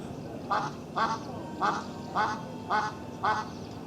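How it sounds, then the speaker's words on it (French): Ducks quack in six evenly spaced bursts, each a short cluster of nasal calls, clear and fairly close over a quiet background, in Greece. "Tout comme les canards qui sont ici chez eux."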